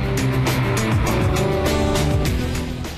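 Vintage rally cars drive the high alpine Silvretta road with engines revving loudly and close. Shifting engine tones rise and fall as they climb, then fade slightly toward the end.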